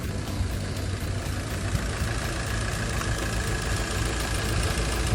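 A car engine idles steadily just after being started, following repairs for a shaking engine: a continuous low rumble with faint knocking texture, close and constant, no voices.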